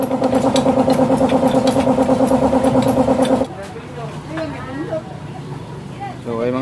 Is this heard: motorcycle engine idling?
yes